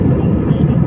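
Airplane engines roar loudly and steadily during takeoff from an airport in Saudi Arabia, a dense low drone with no speech over it.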